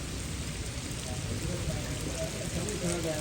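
Heavy monsoon rain pours onto tin roof sheets and runs from drain spouts in a rural Punjab village, a dense, even hiss of water that stays constant throughout.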